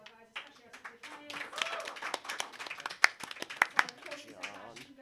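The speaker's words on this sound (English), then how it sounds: "Just a quick round of applause for our guys, especially our secret players" An audience gives a quick round of applause for performers: scattered, fairly quiet hand claps that build and thin out, mixed with voices talking nearby.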